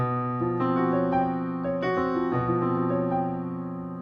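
Sustained instrumental chords alternate slowly between a tense, clashing tritone and a more open, stable perfect fifth, played alone with no voices.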